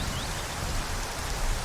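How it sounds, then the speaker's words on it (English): Steady rain in the video game Skyrim, a dense, loud, even hiss of falling water filling the whole short stretch without pause. "So here we can see the rain"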